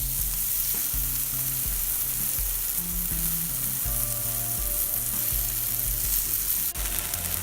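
Grated potatoes and chopped cabbage frying in a pan, a steady dense sizzle with stirring, close and continuous, under a melodic backing tune.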